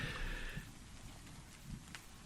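Rain falling on a fog-clad mountain path in a fantasy tabletop roleplay soundscape, a soft, steady patter and hiss that stays faint and even throughout with no voices.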